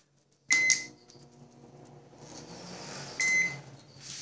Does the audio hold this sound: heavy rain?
no